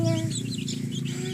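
Chickens clucking close by in a quick, continuous burst of short, overlapping calls.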